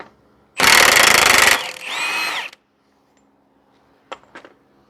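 A power tool, likely an impact gun, rattles loose a lower ball joint nut on a 2010 Toyota Corolla, with one loud close burst, then a shorter, lighter run, quiet, and two brief metallic clinks.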